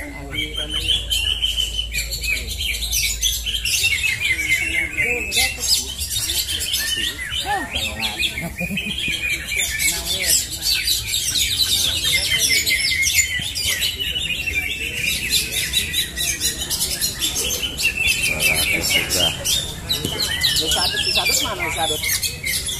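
A green leafbird (cucak hijau) sings at a songbird contest, with dense, continuous chirping and warbling phrases from several birds that carry on throughout, loud and close, over a busy background.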